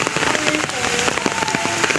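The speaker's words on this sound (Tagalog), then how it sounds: "So, ang aga-aga, umuulan." Steady rain patters densely on a surface, a constant close hiss of drops with no break.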